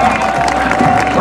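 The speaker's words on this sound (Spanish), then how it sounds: "Regálenme el aplauso que se oiga." Crowd noise from a rodeo tournament audience, with cheering and applause swelling together for about a second before cutting off, over a steady tonal hum in the background.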